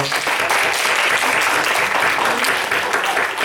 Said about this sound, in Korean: 잠깐 일어나시면 저희가 박수로 환영하겠습니다